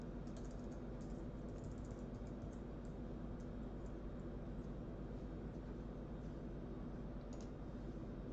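Keys are tapped on a computer keyboard in quick, light bursts, faint clicks sitting over a loud, steady low hum of background noise.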